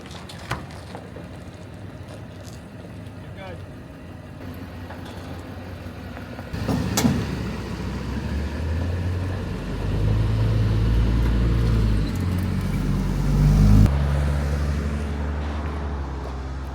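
An old Ford truck engine idles, then builds to a heavy, loud rumble as the vehicle pulls away nearby, the low drone swelling over several seconds before dropping off.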